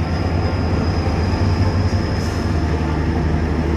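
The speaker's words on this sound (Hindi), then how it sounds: "और इधर से ट्रेन जा रहा है," A train passes through Dimapur, Nagaland, with a loud, steady rumble of wheels and carriages rolling close by without a break. No one speaks.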